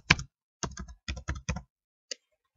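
Keystrokes on a computer keyboard while typing a word in a word processor, a quick burst of five or six close clicks followed by one isolated tap, sounding near and fairly quiet in an otherwise silent room.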